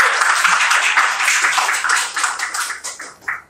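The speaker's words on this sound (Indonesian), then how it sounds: "Tepuk tangan lagi buat Bang Ica dulu" An audience claps for a speaker at a student discussion event, with steady, full applause that thins out into scattered claps toward the end.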